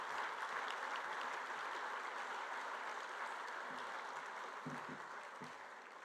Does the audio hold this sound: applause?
yes